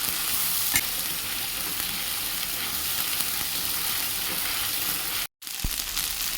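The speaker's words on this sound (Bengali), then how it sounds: "তেল গরম হয়ে গেছে, দিয়ে দেবো বেটে রাখা মশলাটা" Ground spice paste sizzles and crackles in hot oil in a pan, a loud continuous frying hiss with stirring scrapes, briefly cutting out near the end before resuming.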